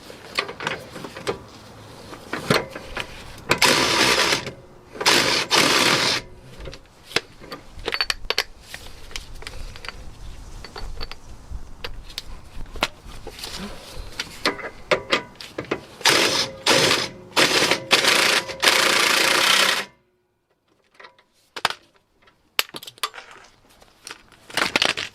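Socket wrench with a 19mm socket tightening the lower rear shock absorber bolt on a Fiat 500, a run of close, loud metallic ratchet clicks in bursts, then a quieter stretch near the end.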